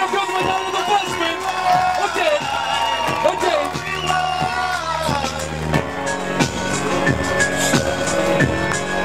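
Concert crowd cheers and applauds at a live show, loud whoops and shouts over steady clapping, with music and a voice over the crowd throughout.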